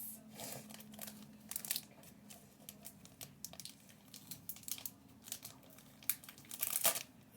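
A new notebook is unwrapped and opened with close, soft crinkling and rustling of packaging or paper in irregular bursts, growing busier toward the end.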